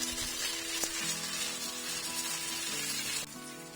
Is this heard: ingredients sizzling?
yes